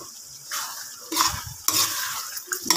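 Bicol Express with green beans stirred in a pan, spoon scraping and tossing in bursts over a low sizzle, close with no talk.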